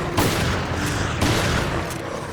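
Rapid shotgun blasts in Resident Evil Revelations aimed at the fleshy underside of a giant paw, loud dense booms running together across the whole stretch with no voice over them.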